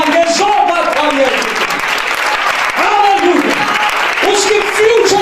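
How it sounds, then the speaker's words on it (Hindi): A church congregation at a thanksgiving sermon breaks into loud applause, with steady clapping under a voice that keeps speaking over it throughout. "जोरदार तालियां।"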